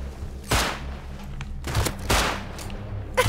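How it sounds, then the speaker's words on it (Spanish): Gunfire from a silenced shotgun in the video game Rust: four sharp, heavy blasts spaced irregularly, fairly loud and close, with a low background hum between shots and no talking. "La escopeta con silenciador"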